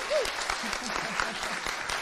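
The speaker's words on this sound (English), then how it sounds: "I think he deserves a round of applause for that" An audience at a food systems innovation award ceremony gives a round of applause, a moderate crowd clapping with a voice briefly rising over it near the start.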